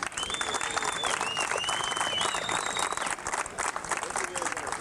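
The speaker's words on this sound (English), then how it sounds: "Another round of applause for the great Al Torres." An audience at a one-wall handball nationals event applauds and cheers steadily, with sustained clapping and a few whistles rising above it.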